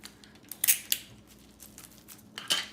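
Sticky tape being pulled off a roll and pressed onto bubble wrap for a junk collage, giving a few short crackly rips and crinkles, close and fairly quiet, with gaps between them.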